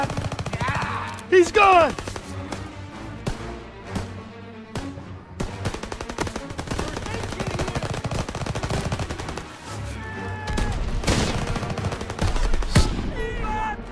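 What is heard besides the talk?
gunfire from a sniper in the video game Call of Duty WW2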